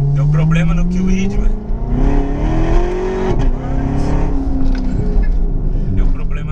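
A Corvette engine rumbles and revs loudly from inside the car while driving as an Uber, with a rising and falling engine note under steady conversation between people.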